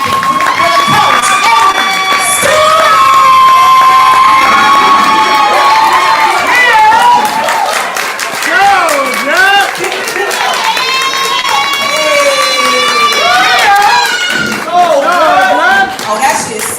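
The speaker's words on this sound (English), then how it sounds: "Start clapping for the coach." An audience at a poetry slam claps and cheers loudly for the coach, with shouts and whoops rising over sustained applause and several excited voices calling out throughout.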